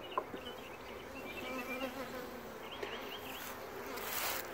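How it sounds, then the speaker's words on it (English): Honey bees swarm around an open beehive, their dense, continuous buzzing close and steady, swelling slightly toward the end with no voices present. "There's a lot of bees right there."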